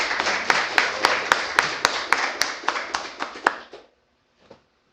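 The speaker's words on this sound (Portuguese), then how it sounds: "Vamos dar uma salva de palmas para Jesus." A small church congregation claps hands in a loose, steady rhythm of distinct claps for nearly four seconds, then stops abruptly, leaving silence broken by one faint late clap.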